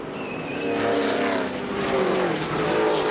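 NASCAR stock cars roar around the track after one spins sideways in front of another, a loud, continuous engine drone with shifting pitch and no voices.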